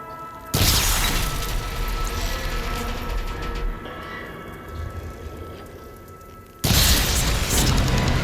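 A heavy explosion bursts out as the arm coupling is shot in Horizon Forbidden West, followed by a long rumbling, clattering aftermath of mechanical debris before a second loud blast hits near the end.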